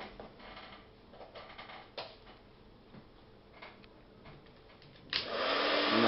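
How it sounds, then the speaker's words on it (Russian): Clicks and light handling noises, then a hair dryer switches on near the end with a loud, steady rushing hum that keeps going, used to soften a 12-gauge shotgun shell. "обычный фен для волос"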